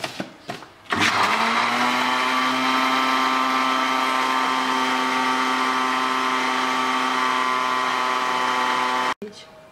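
A Moulinex blender whirs steadily while mixing eggless homemade mayonnaise of oil, salt and vinegar, starting after a brief clatter and running loud and continuous for several seconds before stopping abruptly.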